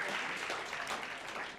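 Audience applause at a faculty session, a dense steady patter of many hands clapping together at close range, fading slightly toward the end.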